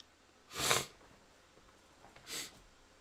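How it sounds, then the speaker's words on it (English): Two short, breathy nasal sniffs, close and fairly loud, separated by a quiet gap of about a second and a half. "Sorry if you hear me sniffling."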